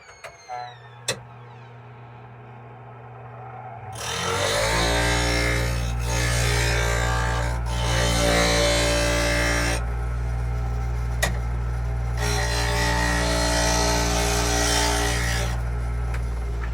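A powered sharpener spins up and grinds a woodworking lathe tool in steady bursts, with a constant low motor hum under the scraping, plus a few clicks and taps.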